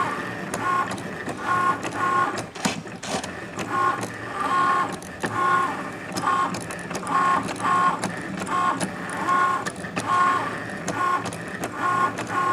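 An electronic cutting machine pins and cuts faux leather for bows, giving repeated short whirring motor pulses in a steady rhythm over a constant mechanical hum.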